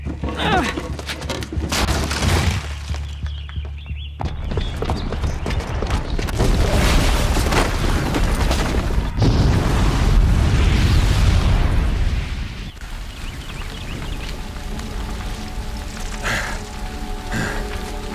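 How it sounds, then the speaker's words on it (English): A booby-trapped bomb goes off in Horizon Zero Dawn, a loud sustained roaring blast with rumbling debris that swells for several seconds before easing into a lower rumble, with a voice briefly heard. "the booby trap on the bomb downstairs is gonna get set off"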